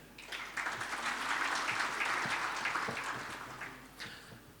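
An audience claps at the opening of the Future Professions Summit in Baku, 2025, a fairly distant burst of applause that swells, holds and then tapers off.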